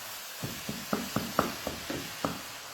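A spoon scrapes browned bits from the bottom of a hot pan while cooking Bolognese, about seven short scratchy strokes in a quick irregular rhythm, fairly quiet over a faint sizzle.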